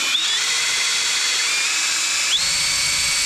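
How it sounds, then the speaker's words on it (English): A power drill spins continuously to clean the end of a pipe before fitting a SharkBite connector, a loud, steady high-pitched whine held close up with one brief shift in pitch partway through. "now we're going to clean it with the drill"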